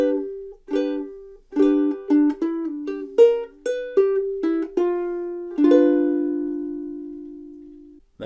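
Solo ukulele runs through a blues example in G: a quick string of plucked notes and slides in steady rhythm, closing on a long ringing chord that slowly decays, recorded up close with nothing else heard.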